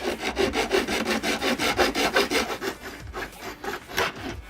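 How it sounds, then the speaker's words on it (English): A hand saw cuts through a wooden dowel in quick, steady back-and-forth strokes, each one a rasping burst, close and clear, with the rhythm loosening toward the end. "So we're gonna cut us 2 dowels, and I'm gonna make them about 4 inches a piece"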